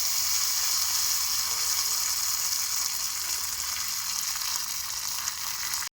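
Spices sizzle in hot mustard oil for a chutney tempering: a bright continuous hiss with small pops and crackles, steady throughout, cutting off abruptly near the end.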